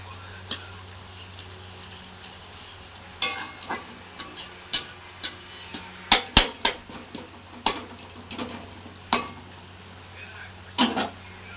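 A spatula scrapes and knocks against a pan while thick chutney is stirred, giving scattered sharp clacks and scrapes at irregular intervals over a low steady hum, with a quiet sizzle underneath.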